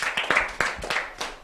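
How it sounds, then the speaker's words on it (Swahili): Hands clap in a church during a teens' gathering, a few people beating a quick, uneven rhythm of sharp, close claps for a little over a second, with no voices over them. "Pigeni makofi."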